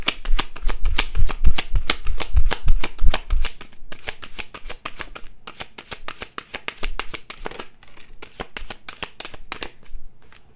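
Tarot cards shuffled continuously, a loud, close, rapid train of crisp card slaps and riffles that keeps going with brief pauses throughout, with no talk.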